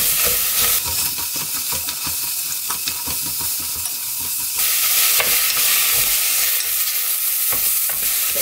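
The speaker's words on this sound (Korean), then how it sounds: "그리고 조금만 볶아줄게요." Radish stir-fried in a pot with a spoonful of perilla or sesame oil and a little water sizzles loudly and steadily, with frequent scraping and stirring strokes throughout and no talking.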